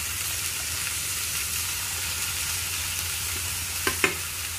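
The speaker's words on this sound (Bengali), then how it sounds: "এবার এর মধ্যে আমি দিয়ে দেবো একটু আদা আর জিরে বাটা" Ginger and cumin paste sizzles in hot oil in a pan, a steady close frying hiss with a couple of sharp clinks of a stirring utensil near the end.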